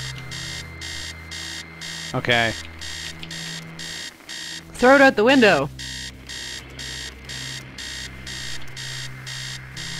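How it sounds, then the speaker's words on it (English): An alarm clock in the video game Stories Untold beeps in steady, repeating bursts from start to finish, while people talk over it in short exchanges. "How do I stop the alarm clock?"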